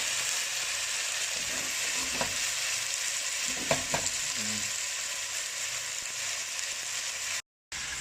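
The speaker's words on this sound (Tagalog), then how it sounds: "ilalagay ko na yung pata ng baka natin" Beef trotters going into a hot pot for balbacua, a steady loud sizzle and frying hiss with a few clunks and scrapes of stirring, then a brief cut to silence.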